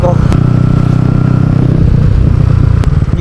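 A modified, bored-up 200cc Bajaj Pulsar NS200 motorcycle engine idles with a steady, loud mid-low throb and faint clatter, with a couple of sharp clicks.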